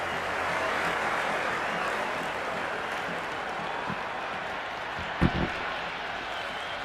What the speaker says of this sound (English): There's a almost tangible fervour throughout the crowd at the moment.